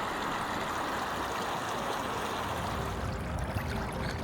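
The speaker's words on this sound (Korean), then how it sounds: "도심 속 숲 개울에서 맑게 흐르는 물소리가 상쾌하게 들립니다" Clear water flowing along a shallow forest stream in an urban ecological park in Seoul, a steady, close, even rush and trickle without pause throughout.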